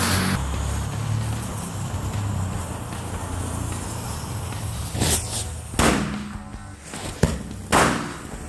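Firecrackers set off for the Lebaran Idulfitri holiday: an extended hissing, rumbling burn gives way to several sharp, loud bangs in quick succession, heard outdoors and close by.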